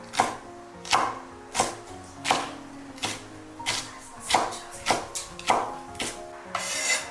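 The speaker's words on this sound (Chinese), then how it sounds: "把里面的辣椒籽给它去掉，切成长段，再切成长条" A kitchen knife chops a cleaned, seeded green bell pepper into long strips on a cutting board. About a dozen crisp, evenly paced thuds land up close, with no talking.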